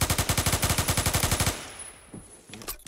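Rapid automatic gunfire from a shooter video game, a steady loud burst of evenly spaced shots for about a second and a half, then stopping abruptly, leaving quieter game sounds and a few faint clicks.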